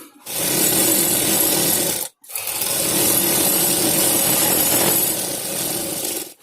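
A sewing machine stitches the side seam of a cotton frock kurti, running in a fast, steady whir, stopping briefly for a moment, then whirring on again in a second long run before stopping.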